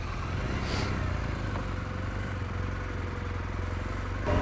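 A BMW K100 motorcycle rides ahead on a road near Nottingham, its engine a low rumbling drone beneath steady wind and road noise, with a short louder swell near the end.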